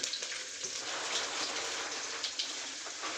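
Mustard seeds, fenugreek and garlic frying in hot oil, a steady dense crackling sizzle with faint pops, continuous and fairly quiet throughout.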